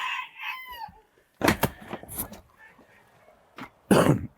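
Small hens in a straw-lined coop let out a few brief squawks and clucks near the start, followed by scattered rustling and bumps with short gaps of quiet.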